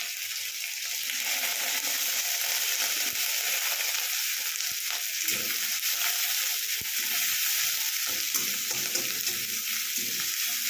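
Garlic and ginger sizzle and crackle steadily in hot oil for a Tibetan thukpa, a dense, continuous frying hiss with occasional stirring scrapes, close and fairly loud, with no talk.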